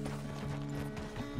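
Horse hooves clip-clopping at a walk in the Red Dead Redemption 2 video game, quiet and uneven steps over a low background hum, with no talk.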